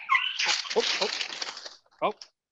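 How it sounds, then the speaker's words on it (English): A family dog gives brief high whimpers and a short yip mixed in with a person talking indoors during a barbecue rib cooking class. "That was a family dog."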